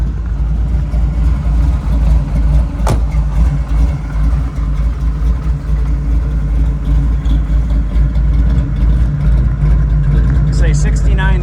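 A restored 1969 Chevy Nova with a 383 stroker V8 and five-speed gearbox runs nearby with a deep, steady low rumble across the whole stretch, someone talking over it and a sharp click partway through.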